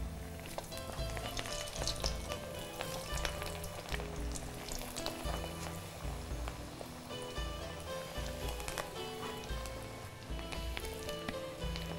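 Pakoda fritters fry in hot oil, a dense continuous sizzle and crackle with no talk, steady and close throughout.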